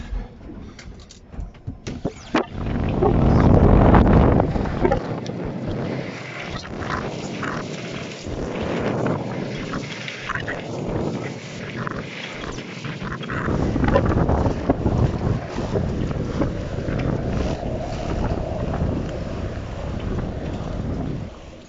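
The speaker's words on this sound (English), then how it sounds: "you won't hear anything but wind" Storm winds on a river, a heavy continuous roar of gusts buffeting the microphone, surging louder and easing, with no voices.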